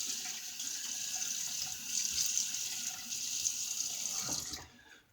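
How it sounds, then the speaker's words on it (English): Tap water runs steadily into a sink as a face is wetted before shaving, a continuous close hiss that cuts off at the end. "let me go ahead and get my face wet and we'll get some lather started"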